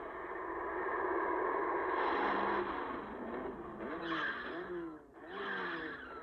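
A race car in the Kyden's Keepers video game skids and crashes, with a loud engine roar and tires squealing in wavering screeches that dip and return over about six seconds, and no talking.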